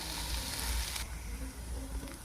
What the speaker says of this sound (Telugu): ఇప్పుడు అల్లం వేగిందండి